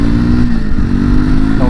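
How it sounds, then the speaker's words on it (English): Triumph Scrambler 400X motorcycle fitted with a 16-tooth front sprocket, its engine revving moderately and pulling steadily through the gears, loud and close with a continuous rumbling drone. "Not revving it too high, but shifting through the gears."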